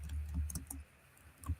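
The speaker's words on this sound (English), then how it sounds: "I'm typing while you're talking." Soft typing on a computer keyboard: a few quiet, irregular key clicks over a faint background hum.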